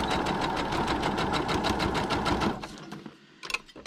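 Sewing machine stitching lace onto paper, a fast even run of mechanical needle strokes for about two and a half seconds, then it stops and a few faint clicks and handling sounds follow.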